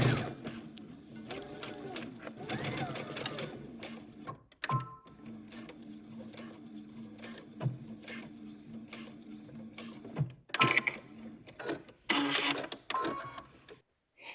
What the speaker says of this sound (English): So we'll go to the machine and sew from one end to the other